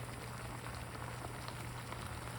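Water boils in a pot with a steady, quiet bubbling hiss and a low hum underneath, continuous and even, with no talk.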